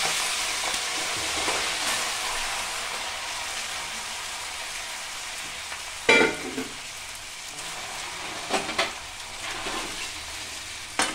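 Cooked rice goes into a pan of mace, cardamom, cinnamon and cloves frying for basanti pulao. A soft, steady sizzle runs throughout, and occasional scrapes and knocks of a spoon against the pan cut through it.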